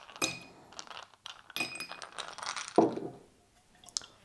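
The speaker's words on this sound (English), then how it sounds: "Then you add some ice cubes," Ice cubes drop into a glass while an Old Fashioned is mixed, a few sharp clinks and rattles in short bursts with brief pauses, close and fairly quiet.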